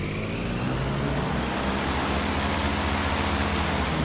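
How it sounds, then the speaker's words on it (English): Steady, loud engine drone from the Aerobask Shark UL propeller aircraft in X-Plane 12, held on the brakes, with a constant low rumble and broadband roar, unchanging throughout and with no voices. "let's listen to the engine sounds"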